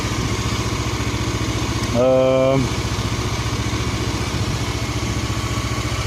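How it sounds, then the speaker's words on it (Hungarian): A 2000 Honda CB 500 S motorcycle engine idles with a steady, even pulse throughout, briefly joined midway by a short rising whine before settling back to the same rhythm. "a motor az nagyon szépen egyenletesen jár, és nagyon szép hangja van"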